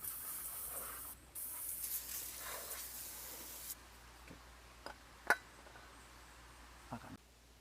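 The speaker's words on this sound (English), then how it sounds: "I'm gonna spray a little bit of brake cleaner here to take all the grease around the rotor." Brake cleaner hisses from a spray can onto the rear brake rotor of a 2008 Honda Accord, a loud steady burst for several seconds, then quiet shop ambience with a few sharp clicks and taps.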